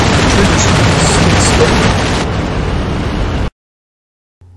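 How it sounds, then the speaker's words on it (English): Eight heavy .50 caliber machine guns on a P-47 Thunderbolt fighter fire in a loud, continuous roaring burst for several seconds, then cut off abruptly into silence; a voice speaks briefly at the start. "All that noise and vibration, the flame and smoke had come from the 8 heavy 50 calibers blasting"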